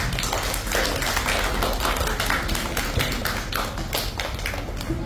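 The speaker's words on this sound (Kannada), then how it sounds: "ಸೊ ಎಲ್ರಿಗೂ ಒಂದು ಜೋರಾದ ಚಪ್ಪಾಳೆ ಬನ್ನಿ" An audience at a summer camp school closing ceremony breaks into loud, continuous clapping, a dense patter of many hands that carries on steadily throughout.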